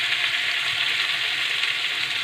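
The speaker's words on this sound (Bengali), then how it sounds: "আলু ভাজার সময় আমি অল্প একটু হলুদ," Potatoes fry in hot oil in a pan, a loud, dense, steady sizzle with a bright crackling hiss and no talking.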